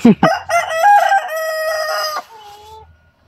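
A rooster crows close by, one loud full cock-a-doodle-doo with a strained, wavering tail, and a faint second bird answers near the end.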